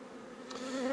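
Many honeybees buzzing at an opened beehive, a close continuous droning hum that swells slightly as one bee passes near, with no voices.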